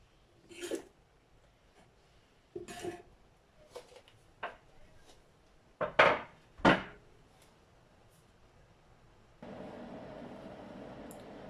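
Fruit being cut with a knife on a wooden board, heard as a series of distinct close-up chops and knocks with pauses between them, ending in a steady background hiss.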